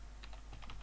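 Brief, faint run of keystrokes on a computer keyboard, several soft clicks in quick succession over a low background hum.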